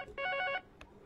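A telephone rings with an incoming call during a live broadcast show: one short electronic ring burst followed by a brief faint chirp, heard alone.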